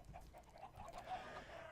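Several Minecraft chickens cluck in a game farm, with short, repeated clucks scattered across the stretch. The sound is faint and no one speaks.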